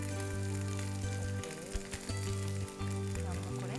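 Capsicum goes into a hot pan of boiled noodles, setting off a steady close sizzle and frying crackle with scraping stir sounds, while a low steady hum runs underneath throughout.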